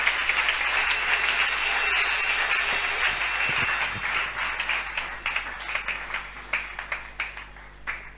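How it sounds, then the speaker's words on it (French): Church congregation applauding and cheering at a prayer seminar, a loud burst of mixed clapping and cheers that thins into scattered individual claps toward the end. "Est-ce qu'on peut l'encourager par des acclamations?"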